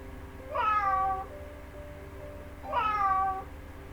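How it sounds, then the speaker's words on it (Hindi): A cat meows twice, about two seconds apart, each a clear close drawn-out call over a quiet low background hum. "बिल्कुल सही, बिल्ली यानी कि कैट।"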